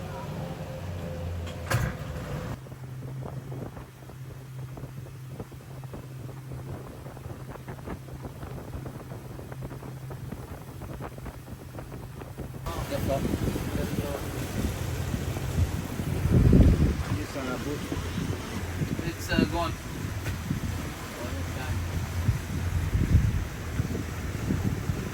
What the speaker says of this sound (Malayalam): ഇതാണ് ഗൈസ് നമ്മൾ വന്ന ബോട്ട്.